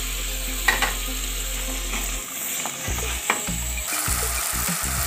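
Potatoes drop into hot oil spiced with red chili, and a bright sizzle rises with stirring scrapes, partly under steady tonal background music.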